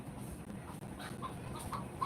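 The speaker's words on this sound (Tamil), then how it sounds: "ஏய் கோழி இன்னைக்கு முட்டலாம் அர்ஜுன்" A chicken clucks in short, soft bursts that grow more frequent toward the end, heard faintly over low background noise.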